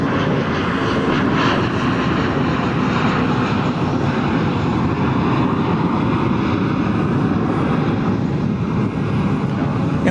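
Jet airplanes at DFW Airport, a continuous loud engine roar with broad rushing noise that stays steady throughout, heard from a distance across the airfield.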